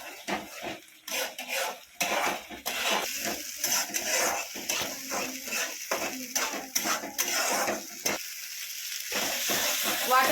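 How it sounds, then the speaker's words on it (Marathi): Masala paste sizzles steadily in a pan while a spoon scrapes and stirs it, with clattering metal strokes over a constant frying hiss, up close. "मसाला चांगला वेळा परतून घ्यायचा आहे. खाली लागून नाही द्यायचा मसाला."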